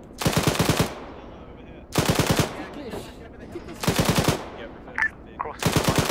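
Machine gun fire in the military shooter Arma 3: four loud, close bursts of rapid automatic shots, each lasting under a second, separated by short quiet gaps with faint background sounds.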